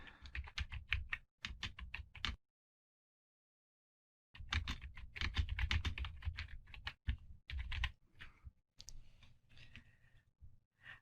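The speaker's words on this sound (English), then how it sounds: "And then you can just simply type away." Typing on a computer keyboard while writing a blog post: quick bursts of close, crisp key clicks, broken by a pause of about two seconds before the typing resumes, with no talk.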